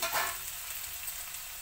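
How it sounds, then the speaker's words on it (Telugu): Ivy gourd pieces frying in a pan for a coconut dry fry, giving a steady, close hissing sizzle with a brief rustle of stirring at the start and no talking. "మనం సగం వేగిందండి, ఇంకా వేగాలి."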